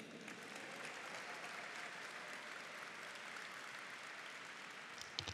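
An outdoor audience at a civic tree-lighting event applauds for the mayor and consul general, a continuous, even wash of many hands clapping at moderate distance, fairly faint and steady to the end.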